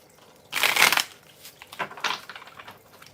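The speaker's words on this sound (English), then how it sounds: "Let me shuffle real quick" A quick burst of tarot cards riffling and shuffling, followed by a few softer shuffles and card taps, close by.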